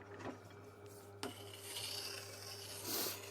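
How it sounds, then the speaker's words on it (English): A half inch bowl gouge is sharpened with quiet, rasping strokes, a few distinct scrapes followed by a softer, continuous grinding rub, faint and close. "let's give it a quick sharpen"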